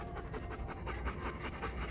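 Dogs pant in a fast, steady rhythm close by, soft and continuous with no other sound over them.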